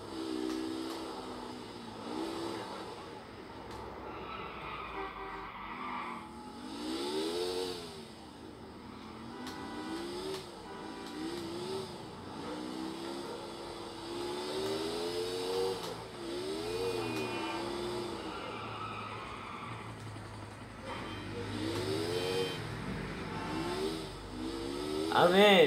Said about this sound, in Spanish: NRG 900, me gusta esta moto.